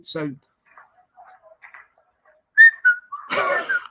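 Faint, sparse whistled notes from a person outdoors in the street at night drift in against a quiet background, followed by a brief voice close by.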